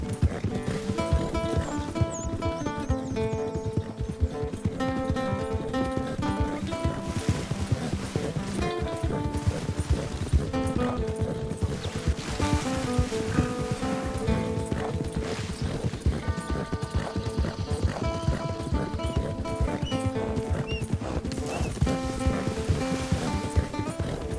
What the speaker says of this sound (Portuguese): Agora é preparar os cavalos e vamos testar a velocidade de um cavalo de corrida.